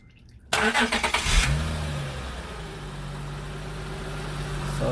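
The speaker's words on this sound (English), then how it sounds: "So Juan, now you can turn on the car and put drive." A 2005 Acura TL engine starts with a sudden loud roar and sputtering pulses, then settles into a steady idle hum as it is shifted into drive during a transmission diagnosis.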